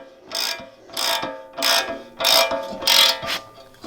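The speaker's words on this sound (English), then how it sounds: "At the end it gets a little bit harder, but you just keep on cranking." Ratchet cranking while installing a Truhart extended lower ball joint on an Acura Integra, five steady clicking strokes in a regular rhythm, close and clear with no talk.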